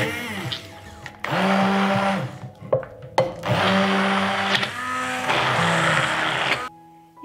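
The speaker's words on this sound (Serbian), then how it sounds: "I zatim ću sve usitniti štapnim mikserom." An immersion blender purees cooked liver and fat for pâté in a bowl, its motor whirring loudly in several sustained bursts separated by brief pauses.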